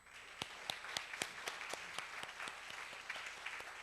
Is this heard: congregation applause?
yes